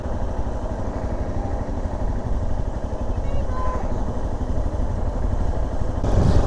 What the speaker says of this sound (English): that's why I have this stock exhaust on this bike